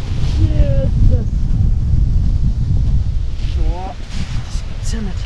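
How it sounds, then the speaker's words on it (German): Strong wind buffets the microphone on an exposed ridge, a loud, constant low rumble of gusts, with a voice speaking briefly over it. "der Wind wird jetzt immer stärker"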